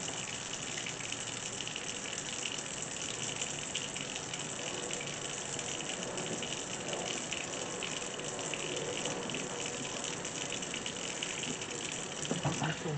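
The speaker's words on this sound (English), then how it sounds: "First, you're going to wash them" Breadfruit being washed under cold running water while prepped for a Jamaican-style stovetop roast; a constant, even rush of water pours throughout, with no talking.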